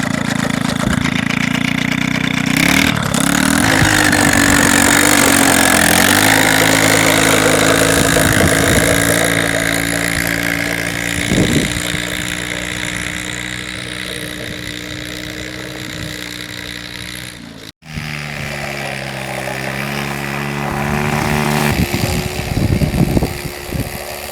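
A motorized snow scooter's small engine runs steadily, a close, buzzing drone with a continuous hum that wavers slightly and dips briefly near the end before picking back up.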